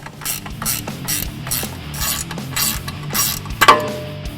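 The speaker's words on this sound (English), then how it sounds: "Now you can fully remove the nut" Close, steady clicking of a ratchet loosening a nut on the suspension of a 2015-2018 Ford F-150 during a Roush Fox 2.0-inch kit install, a rapid run of pawl clicks ending with a sharper metallic clank.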